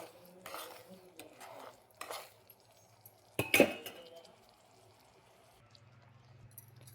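A spoon clinks and scrapes against a pot as sugar syrup for rava laddu is stirred on the stove, with scattered metallic taps, one sharper clank midway, and a low steady hum beneath.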